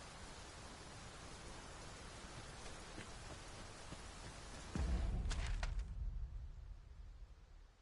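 Steady, dense rain falls in the Dragon's Dogma 2 video game, a broad hiss filling the whole span, with a louder low rumbling surge partway through before easing off.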